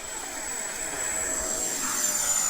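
A T-45 jet model aircraft throttles up for takeoff, a steady broadband engine roar with a high whine holding level throughout, no voices over it.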